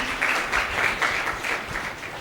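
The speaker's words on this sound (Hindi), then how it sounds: "ताली बजाओ" Audience at a youth motivational talk clapping for a girl's answer, a moderate, uneven patter of many hands, fairly close, swelling in small waves and tapering off.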